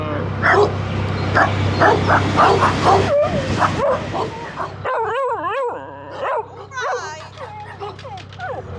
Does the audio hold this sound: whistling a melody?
no